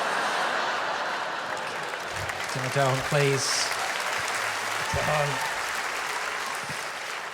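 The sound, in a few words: audience clapping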